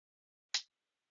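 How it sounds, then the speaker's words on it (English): A single sharp clack as the two halves of a homemade dry erase slate strike together, a brief isolated snap in an otherwise silent room. "clap that together, the top part and the bottom"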